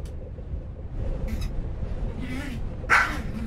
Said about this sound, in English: This video is gonna be all Zero barking again, just like last time.